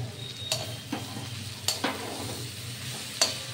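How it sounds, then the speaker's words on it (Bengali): Potato filling for singara sizzles steadily in a pan with turmeric added, a low continuous fry broken by a few sharp scrapes of stirring, close and moderately loud with no talking. "এটা আর একটু ভাজা ভাজা হবে। একটু মাঝে মাঝে একটু গালিয়ে দেবেন, কারণ আলুর পরিমাণ বেশি আছে।"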